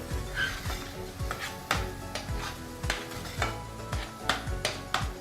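Onions stirred in a pan as they turn translucent, a utensil scraping and clinking in a steady rhythm of strokes over a low sizzle, close and fairly loud.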